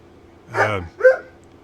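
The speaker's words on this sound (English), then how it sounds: "Oh, Tippy bark alert. Yep, Tippy bark alert" A small dog gives two quick, close barks, a longer one followed by a shorter, higher yip, with no talking during the barks.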